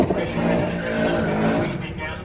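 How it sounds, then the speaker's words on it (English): A supercharged Subaru BRZ / Toyota GT86 roars past at a drag racing event, a loud, continuous engine howl with whining harmonics over about two seconds, with crowd voices mixed in. "that was a BRZ, and it sounded amazing. It had a supercharger. It's a supercharged GT86."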